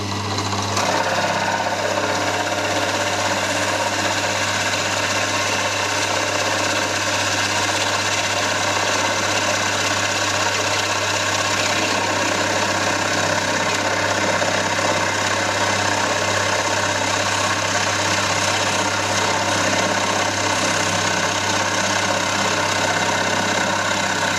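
Carbide-tipped Forstner bit from a Banggood set boring into wood with a drill, a steady droning motor whine holding loud and continuous throughout with no pauses.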